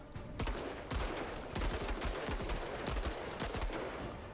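Rapid bursts of gunfire in the tactical game MENACE ring out across the whole stretch, with sharp repeated shots landing in an uneven, steady rhythm, loud and close with no talking over them.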